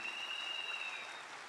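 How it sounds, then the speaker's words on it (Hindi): Faint, brief applause from an audience at a corporate marketing event, a soft steady patter of clapping heard from a distance for under two seconds. "एक बार जोरदार तालियां उनके लिए।"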